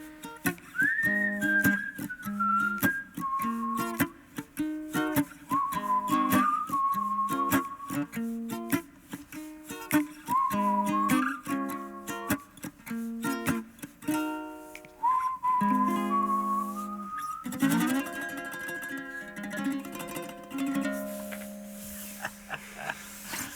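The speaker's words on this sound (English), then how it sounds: "whistling solo." A melodic whistled tune carries over a steady instrumental backing during a live radio studio performance, with a bright, sustained lead line that rises and falls throughout.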